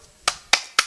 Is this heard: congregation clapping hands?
yes